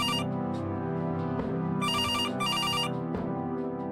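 A phone rings in the point-and-click game Kathy Rain, sounding in two clear bursts of a bright electronic trill over a low, steady background drone.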